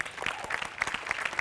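Applause for a performer on a comedy show stage, a soft, even clapping from a studio audience that continues throughout with a few louder, sharper claps.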